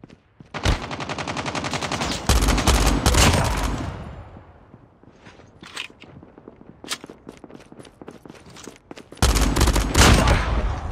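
Rapid machine gun fire rattles in a video game, long loud continuous bursts, then scattered single shots and footsteps, then another sustained burst.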